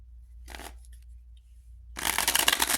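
A deck of tarot cards is shuffled twice near the listener: a brief riffling burst, a pause, then a longer, louder stretch of rapid papery flutter, with no one talking.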